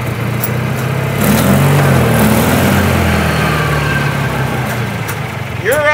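An old UTV engine runs steadily at close range, a low rumbling drone that holds throughout with a slight swell partway, while people talk faintly over it.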